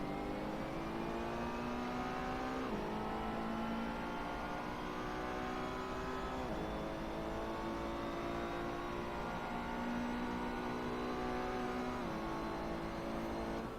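A Ferrari 488 GT3 race car engine in the Assetto Corsa racing game at Circuit Paul Ricard, loud and continuous, revving up through the gears with sharp drops at each upshift.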